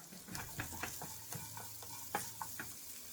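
Pork for tonkatsu, seasoned with sesame seeds, salt and garlic powder, sautés in a pan with a steady soft sizzle and repeated utensil stirring scrapes, close and moderately quiet.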